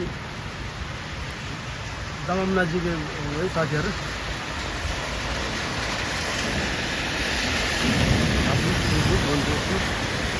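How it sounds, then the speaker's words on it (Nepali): Rain falling outdoors, a steady broadband patter and hiss throughout, with someone talking briefly over it. "अस्तै पानी परेछ आज त"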